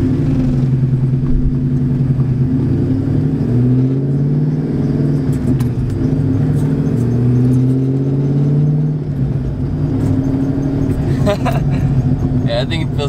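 Nitrous Ford Mustang drives with a loud, steady engine rumble that rises and falls through gears, heard from inside the car, while people talk throughout.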